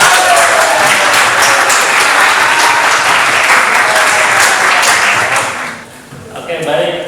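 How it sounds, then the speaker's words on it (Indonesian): Classroom audience applauding for a student's answer during a lesson on wiring an automatic transfer switch, a dense, loud, sustained patter of many hands that fades near the end, with a voice speaking briefly as it dies down. "Silakan kita berikan aplaus dulu."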